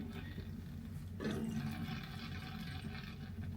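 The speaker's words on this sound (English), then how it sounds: "all you can hear is basically the water just running backwards." Water runs and trickles backwards through lifted caravan bathroom taps during a drain-down, a steady low gurgling flow that swells slightly partway through and continues without talk.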